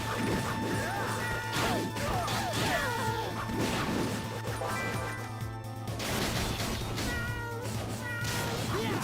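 Cartoonish cats in a video game meow repeatedly in short rising and falling cries, layered over a constant humming game soundtrack with occasional crashing hits, fairly loud and continuous throughout.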